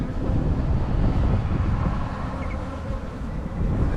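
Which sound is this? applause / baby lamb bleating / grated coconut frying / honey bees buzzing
honey bees buzzing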